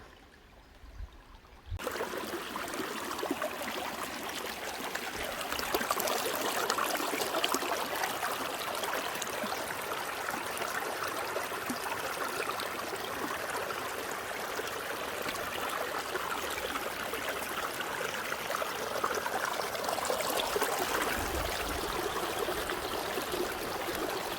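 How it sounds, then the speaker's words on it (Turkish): A seasonal stream that runs in spring and dries up by July babbles steadily through the countryside, a continuous close rushing and trickling of water that keeps going without a break after a brief quiet start. "Biraz da akan derelerin şiril şiril sesini dinledik."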